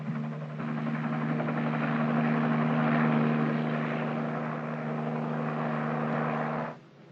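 Military helicopters flying, with a steady, loud rotor and engine drone holding throughout before dropping away at the end; no voices.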